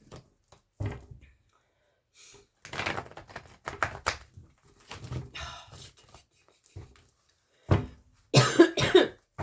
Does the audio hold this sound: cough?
yes